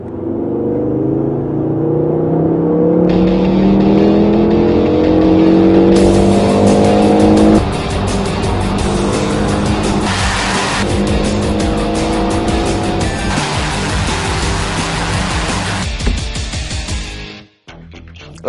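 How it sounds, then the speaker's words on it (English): A Ford Focus RS engine revs hard and loud for most of the stretch, pitch sweeping up and down through repeated throttle blips and sustained high revs before cutting off sharply near the end. "this next test is all about engine noise"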